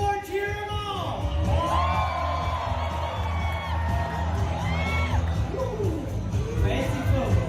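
A rodeo crowd cheers and whoops for the bullfighters in an arena, loud overlapping shouts and hollers rising and falling throughout, with an announcer's voice mixed in.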